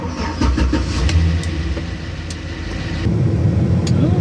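A high-mileage 2004 Chevrolet Silverado 4x4 plow truck engine fires up and settles into a steady, close, fairly loud idle rumble with a brief rise in revs, no talking over it.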